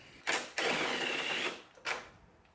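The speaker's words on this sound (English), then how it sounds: "So we're gonna undo this 10mm bolt and we'll pull out the" A 10mm bolt being undone on a Saab headlight: close ratcheting whirr of a wrench turning, a short tick, a sustained rasping run of about a second, then another brief ratchet burst.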